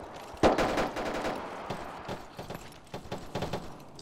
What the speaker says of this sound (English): That's enemy fire.